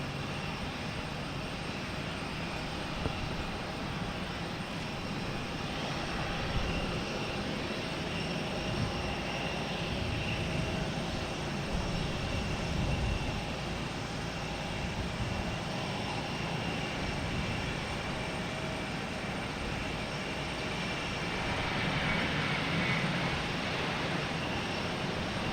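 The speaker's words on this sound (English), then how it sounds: "And I believe United getting ready to take off." A United Airlines jet in Star Alliance livery bound for Chicago spools up for takeoff at Boston Logan, a steady broadband engine roar that holds loud and even throughout, with a faint whine riding on top.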